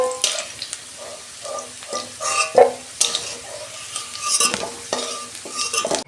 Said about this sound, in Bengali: ওই তেলে সয়াবিনটাও আমি ভেজে নিচ্ছি।